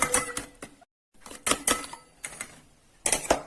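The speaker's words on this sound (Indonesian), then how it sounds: "Kemudian telur kita kocok lepas sampai rata." Eggs are beaten loose in a bowl for a sweet, crispy kembang goyang batter, the whisk clattering in quick, irregular bursts of sharp taps with a brief pause midway.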